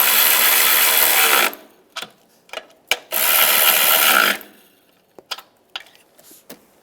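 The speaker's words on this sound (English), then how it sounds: "Tighten the nuts up top." Nuts are tightened on the driver-side valve cover of a 2007-18 Jeep Wrangler. Two sustained close whirring bursts are followed by scattered sharp metallic clicks.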